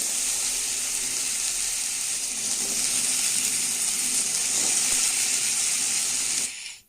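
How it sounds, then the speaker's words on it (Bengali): Brinjal, potato and beans fry in mustard oil in a kadai, giving a steady, loud sizzle with bright hiss that continues unbroken before cutting off abruptly at the end. "কড়াইতে সর্ষের তেল দিয়ে বেগুন, আলু আর সিমটাকে হালকা লালচে করে ভেজে তুলে নেব"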